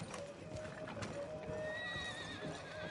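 Horse hooves clip-clopping in the video game Red Dead Redemption 2, with a whinny over a steady hum of game sound and a voice speaking.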